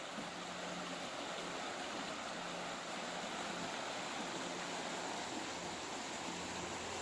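The Little Miami River flows through Clifton Gorge, a steady, faint, even rush of water that continues unbroken with no voices.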